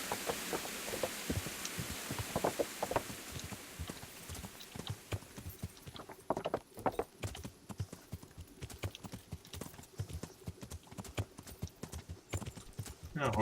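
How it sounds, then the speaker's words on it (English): A horse's hooves clip-clopping in the video game Kingdom Come: Deliverance, a steady rapid trotting rhythm of close hoof strikes that runs throughout, joined by some rustling and a faint background hum. "I don't know if I can necessarily take the horse through this."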